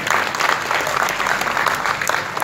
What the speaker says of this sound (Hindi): चलिए इस बार तो जोर से तालियां बजाइए सबके लिए